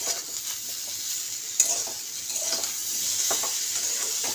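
Spices, chillies and soaked soybean sauté in a pan, giving a steady, close sizzle with soft stirring scrapes throughout and a brief sharper clink partway through; no voices.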